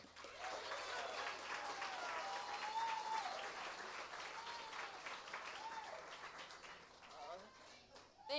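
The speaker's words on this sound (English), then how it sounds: "So can we please give a round of applause for Emily, who is doing the work." Sustained applause from the audience at a live storytelling event, steady clapping filling the room for about eight seconds with some cheering voices mixed in.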